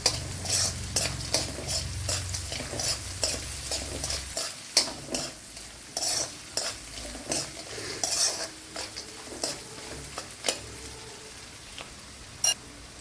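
Peanuts roasting in a pan for a vermicelli breakfast, with a low sizzle beneath a rapid run of rattling stirs and metallic spoon clinks against the pan, close and repeated throughout.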